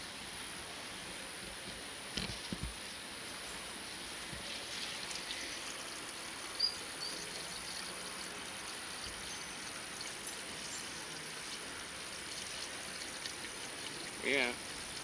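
Garden watering outdoors, with a steady, quiet wash of flowing, trickling water running throughout and a few brief, louder bumps and a short chirp-like sound near the end.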